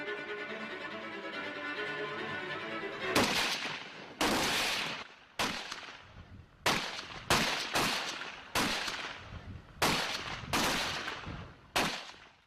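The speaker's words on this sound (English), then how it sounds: "60 seconds, you have to fire all those 10 rounds." Rifle gunfire at a military academy shooting range, a series of about ten loud, sharp shots at irregular intervals, each ringing out with a short echo, no talking.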